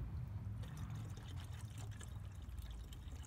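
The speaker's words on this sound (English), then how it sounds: "So I'm just about to put some water in here until we get this thing to the shop" Water poured into a truck's coolant reservoir, a soft, steady stream that trickles and gurgles close by and quietly throughout, with no talking.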